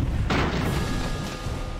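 A single heavy cannon shot from an airship in the game Airships: Conquer the Skies, a sudden loud boom with a rumbling tail that lingers under continuous game noise.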